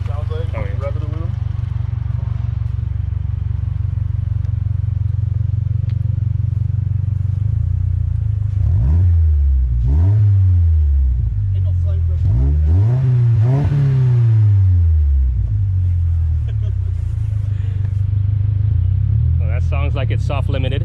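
A 2022 Subaru WRX exhaust revs repeatedly while parked, several loud rising-and-falling engine bursts over a steady rumbling idle, with people talking nearby.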